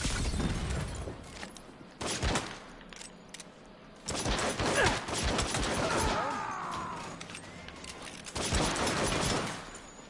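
Gunfire in the 2022 Saints Row video game, heard as bursts of shots in several volleys with a mechanical clatter, loud over steady game ambience and music.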